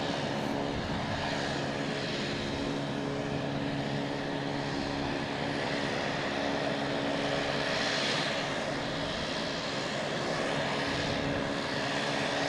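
A Boeing 737-800 airliner landing at Boston Logan, its engine roar loud and sustained throughout, swelling and fading slightly in broad whooshing surges as it passes.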